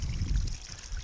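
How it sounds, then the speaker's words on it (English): A small spring on the Appalachian Trail trickles and burbles in a short, close, steady flow of water, with no voices. "It's a nice spring, yeah? I mean, it's flowing."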